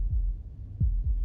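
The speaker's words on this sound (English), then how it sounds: "That was the sound of a heartbeat" Heartbeat in the game Slay the Princess: low, muffled thumps, one beat followed by a quick pair, close and soft against a faint hum.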